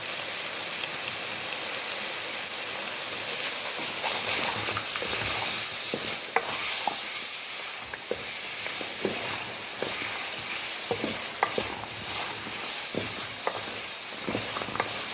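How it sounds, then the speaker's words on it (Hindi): Garlic ginger paste fries in a kadhai with a steady, soft sizzle, broken by scattered stirring clicks and scrapes, close and fairly quiet with no talking. "अब हम इसमें 1 टीस्पून लहसुन अदरक का पेस्ट शामिल करेंगे।"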